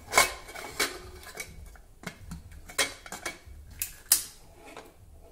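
Metal lid of a pressure cooker holding chickpeas and a medium potato being fitted and closed, heard as a series of sharp clinks and taps, close and fairly loud, with no talking.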